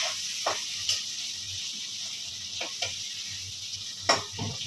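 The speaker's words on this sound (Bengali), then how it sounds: "এবার চিংড়ি মাছগুলো আমি অল্প একটু ভেজে নেব।" Shrimp frying lightly in hot oil give a steady soft sizzle with a few scattered pops and stirring clicks, faint and close up with no talk.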